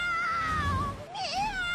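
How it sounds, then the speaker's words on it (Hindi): A cat in a TV serial gives a drawn-out, wavering meow of nearly two seconds, bending up and down in pitch, close and fairly loud with no talking over it. "ऐसे कौन सी बिल्ली बोलती है भाई?"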